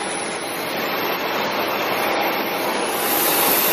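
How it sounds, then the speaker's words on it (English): A jet plane engine roars at an airport on a hot day, a loud, steady broadband rush that swells slightly toward the end, heard close with no talk. "There's the plane that we were on."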